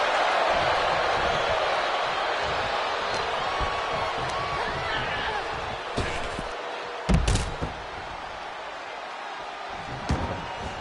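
In the WWE 2K24 video game, a wrestler hits the mat with a heavy thud under a constant roaring arena crowd, followed by a couple of smaller impacts.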